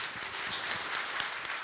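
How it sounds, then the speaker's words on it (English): Audience applause at a customer service conference, a brief, even patter of many hands clapping at moderate distance. "Could everybody give Dustin a round of applause?"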